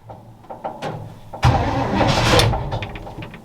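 A 1962 all-original Chevrolet engine, choke pulled fully on, cranks with a few faint clicks, then bursts into a loud, rough, sustained run close to the microphone.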